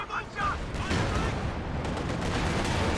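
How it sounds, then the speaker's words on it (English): Sherman tank cannon fire and steady battlefield gunfire in Company of Heroes 2, a dense, continuous barrage of booming shots and rattling bursts filling the whole stretch at moderate loudness, with faint voice traces mixed underneath. "Sherman tank firing away."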